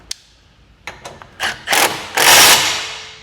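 A ratchet clicks in quick bursts as the original bolt is tightened on a Honda Acty HA7 HRG Offroad lift kit, starting with sparse single clicks and building into louder, longer grinding runs, close up with no talking.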